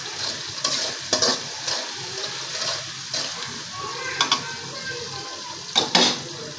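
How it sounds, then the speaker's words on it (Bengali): Chilies and onions sizzle steadily in a pan with a pinch of salt, and a spatula scrapes and clinks against the metal several times over the hiss. "দিয়ে দিলাম 1 চিমটি লবণ, মরিচ পেঁয়াজগুলো আমি লাল করে ফেলবো একদম একেবারে।"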